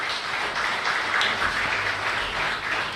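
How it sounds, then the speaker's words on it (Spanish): Congregation applauding during a live-streamed Catholic mass, a soft, continuous wash of many hands clapping at a moderate distance, steady throughout with no speech over it. "un fuerte aplauso entonces aquí para Felicia"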